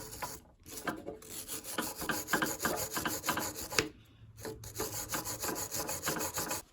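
A carbide scraper rasps paint off the top of a welder in repeated short, gritty strokes, with brief pauses between bursts of scraping, close and moderately loud.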